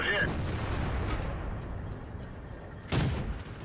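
Tank cannon fire in the World of Tanks video game from an M8A1 tank, a dense rumbling battle roar with a heavier boom near the end.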